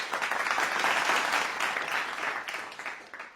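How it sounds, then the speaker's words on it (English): Audience at a talk on a shared planet and greener fuels gives a round of applause, steady dense clapping from a room full of people, loud and sustained before tapering off. "I'm going to give you a round of applause"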